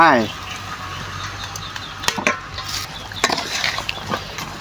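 Pork salad with fish sauce, lime juice and freshly added scallions is mixed by gloved hands, giving soft scrapes and scattered light clicks in the bowl after a brief voice at the start.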